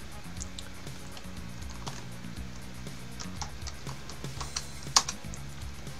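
Fingers type on a computer keyboard in a Linux terminal, a close, steady patter of key clicks in uneven bursts with a louder keystroke near the end and no talking.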